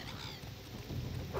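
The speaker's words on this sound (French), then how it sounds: "Oh, il pleut," Rain falls in the video game Morrowind as a steady, even hiss of broadband noise, with a low rumble underneath that grows slightly stronger toward the end.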